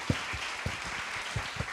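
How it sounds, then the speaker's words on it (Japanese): Audience applause fills a weekday seminar hall in Japan as a large crowd welcomes the event; steady, dense clapping with a few heavier low thumps throughout, no voices. "大きな拍手を送ります。"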